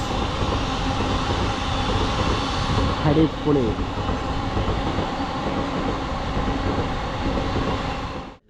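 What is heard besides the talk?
passing train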